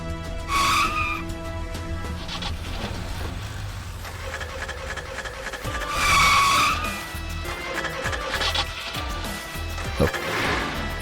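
A car skids with tires squealing in two sharp bursts amid traffic and road rumble, with a few voices faintly in the background.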